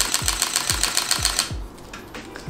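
A Sony a7R III fires its shutter in a rapid burst, producing about five evenly spaced, close mechanical clicks over roughly a second and a half before the burst stops and the sound drops to quiet.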